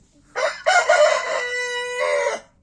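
A rooster in a backyard coop lets out a single loud, close crow lasting about two seconds, with a brief break near its start and nothing else around it.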